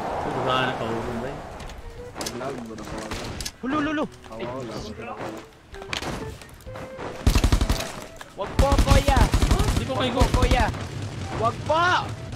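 Rapid video game gunfire in ROS (Rules of Survival) crackles in sharp bursts, loudest near the end, over near, excited speech from players.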